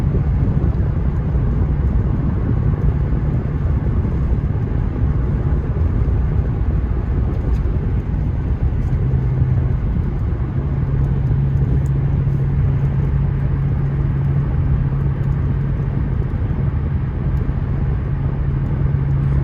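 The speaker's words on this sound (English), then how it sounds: "You can definitely feel those superchargers kicking in." A supercharged 2000 Jaguar XJR drives along, its engine and road noise forming a loud, steady rumble from inside the cabin, with a sustained drone rising partway through.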